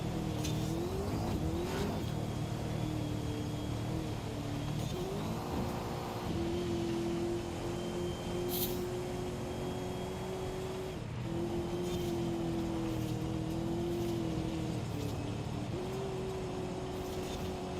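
A car in Forza Horizon accelerates hard, its engine note climbing and dropping through several gear changes, loud and close throughout with no talking.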